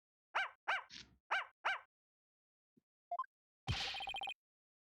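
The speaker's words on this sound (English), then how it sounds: "Can't you quiet that yappy mutt down?" A dog barks four times in quick succession in the Phoenix Wright: Ace Attorney video game, sharp and close, followed after a pause by brief chimes and a bright buzzing game sound effect.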